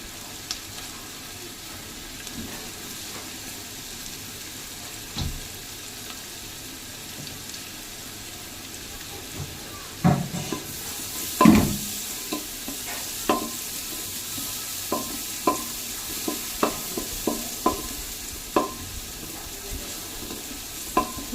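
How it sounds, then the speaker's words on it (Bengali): Chopped onions fry and sizzle in a pan for butter garlic rice, a steady hiss broken by sharp scraping and clinking of a spatula stirring them, growing busier in the second half with no voices. "এবার আমি এর মধ্যে চপ করে রাখা পেঁয়াজ কুচিগুলো দিয়ে দেবো।"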